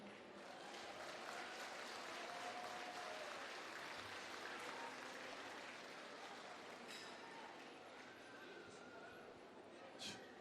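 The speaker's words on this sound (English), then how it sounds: "Would you give another round of applause, please, to the RMI?" Audience applause at the FestPAC entertainment stage for the Republic of the Marshall Islands performers, a steady broad wash of clapping with a crowd murmur and a voice over it throughout.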